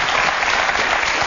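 Applause from a French television show audience, a loud, dense burst of clapping that fills the whole moment with no speech on top.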